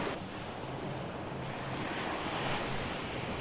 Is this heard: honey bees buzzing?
no